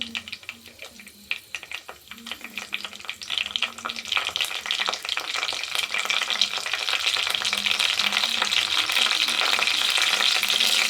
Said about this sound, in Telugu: ఉల్లిగడ్డ, పచ్చిమిర్చి కలిపేసుకున్నాం.